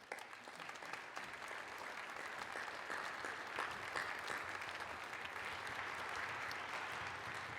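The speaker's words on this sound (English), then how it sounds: "Will you give those folks a round of applause?" An audience at a piano recital applauds steadily, a dense, even patter of many clapping hands that continues for several seconds without letting up.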